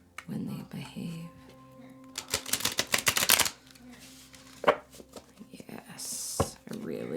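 A brief, rapid riffle of tarot cards being shuffled, with soft rustling and handling noises before and after and quiet speech in the background.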